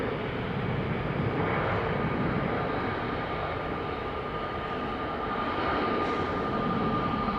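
Air Malta Airbus A320neo jet passing at an airport, a steady broad roar of engine noise holding level throughout with a faint whining tone, moderately near and without voices.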